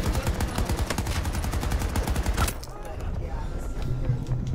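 DXR rifle fire in the video game Battlefield 2042 comes as a rapid, loud burst of repeated shots at close range, then stops abruptly, leaving quieter game ambience with faint voice.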